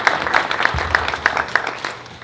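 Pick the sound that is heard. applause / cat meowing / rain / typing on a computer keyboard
applause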